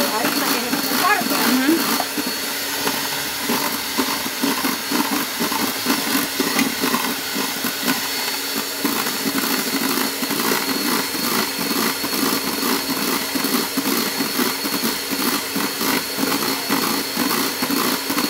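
An electric mixer beats eggs for orange cake batter, a loud steady whirring drone that runs continuously with a slight wavering buzz, while someone talks over it.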